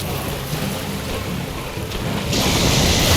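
Crackling, rumbling lightning strikes from a boss in Dark Souls Remastered form a dense, continuous roar that grows louder and brighter near the end, with no talking.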